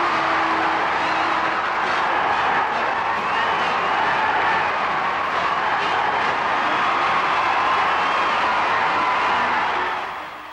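Huge crowds filling Liverpool streets to honour a cup-winning football team, a dense continuous roar of massed voices and cheering heard from a distance, steady and loud throughout before easing at the end.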